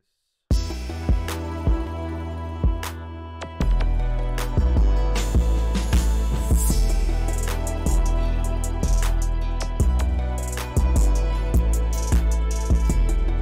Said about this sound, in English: Risers sound like this.